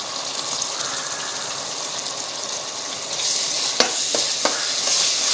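Onions and ginger garlic paste fry in a pan for dum chicken biryani, hissing loudly and steadily, with the sizzle swelling midway and a few sharp clatters of a spoon stirring.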